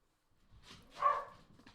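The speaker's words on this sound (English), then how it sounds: "The dogs are upset." A dog gives one short bark at moderate distance, rising briefly out of a quiet room with no talking.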